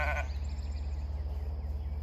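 A single sheep bleat at the very start, brief and fairly close, followed by a steady low rumble of background noise.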